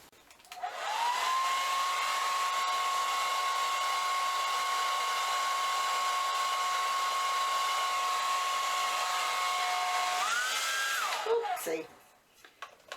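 A hair dryer blowing on poured acrylic paint, heard as a steady loud whine for about ten seconds that rises briefly in pitch before cutting off, followed by a clatter.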